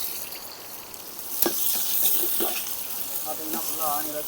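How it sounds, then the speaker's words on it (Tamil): Onions frying in a clay pot over a campfire-style cookout among friends, a steady broadband sizzle with a few sharper crackles and bursts midway, close and moderately loud, with faint voices in the background. "ஆனியன் ஃப்ரை ஆகிட்டு இருக்குது."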